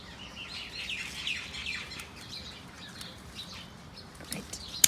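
Parrots call from a tree in short, thin chirps scattered at a moderate distance, over a quiet outdoor background.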